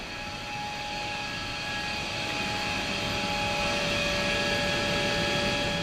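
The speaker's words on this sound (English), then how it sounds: "What seemed to be the case was that the pumps were still running" Pumps running inside an abandoned steel mill, a steady mechanical hum with sustained whining tones over a broad rushing roar, loud and constant, slowly growing a little louder.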